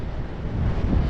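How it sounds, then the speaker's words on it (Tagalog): Strong wind buffets the microphone outdoors during a casting-net fishing outing, a brief, close, low rumbling gust with no other clear sound. "Bah, lakas ang hangin."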